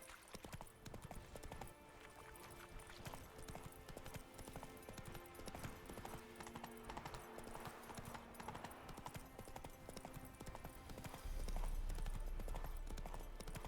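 A horse's hooves gallop steadily in The Witcher 3 video game, giving a continuous rhythmic clip-clop at moderate loudness beneath a dense game soundscape, with no talking.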